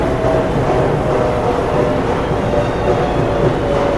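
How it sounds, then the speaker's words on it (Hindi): The HBU 28038 diesel locomotive that hauls the Attock Safari tourist train rumbles steadily and loudly up close at the station, with a low continuous engine drone and no talking. "ये है जी HBU 28038 लोकोमोटिव, जो आज safari express safari tourist train को हॉल करेगा"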